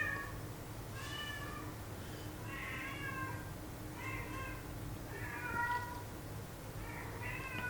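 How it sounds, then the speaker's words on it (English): Cat meows again and again, about six drawn-out calls at a steady pace, fairly faint over a low hum in an indoor room. "So it turns out Rune is a very vocal cat"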